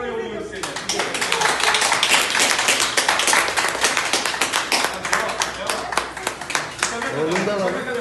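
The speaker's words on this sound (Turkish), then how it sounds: "Alkışlarla yolluyoruz seni." A group claps steadily for a patient being discharged from hospital, dense sustained clapping from start to end, with voices talking over it.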